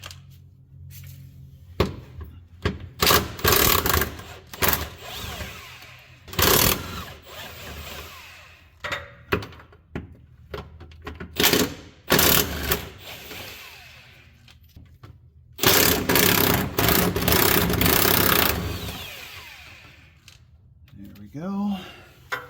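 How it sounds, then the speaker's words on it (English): Impact wrench on a 17 mm bolt during transmission and clutch removal on a Nissan 200SX S12, several loud bursts of rattling hammering separated by pauses, one longer burst near the end, with people talking between them. "And I'm just gonna use the impact."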